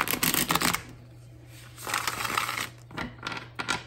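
A new, stiff deck of playing cards is shuffled in bursts of quick, crisp riffling flutters, three separate shuffles with short quiet pauses between, close and fairly soft.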